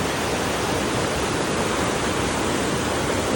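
High Nile floodwater pours through the river barrages, a dense, unbroken roar of rushing water heard up close and loud, with no other sounds.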